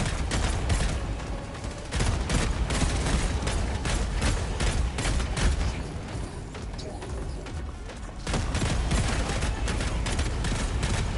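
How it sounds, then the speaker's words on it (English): Gunfire in the video game Helldivers 2 during a fight with bots: continuous loud bursts of automatic fire and impacts layered over game noise, with a brief dip around the middle before the barrage resumes. "who's shooting at me?"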